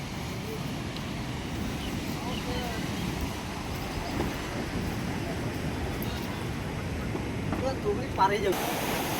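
Ocean waves crashing on the beach at Digha in rain, a continuous rumbling surf roar with wind buffeting the microphone and faint voices nearby.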